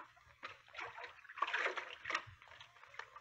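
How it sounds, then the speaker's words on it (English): Radio drama water effect of a man wading into a river, a few irregular splashes and sloshes swelling and fading over about three seconds, close and moderately loud with no speech. "He's getting into the water."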